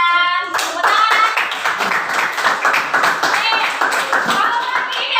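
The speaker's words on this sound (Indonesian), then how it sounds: "Tepuk tangan." A classroom of students claps hands together, a close, rhythmic burst of quick claps lasting several seconds, with children's voices mixed in.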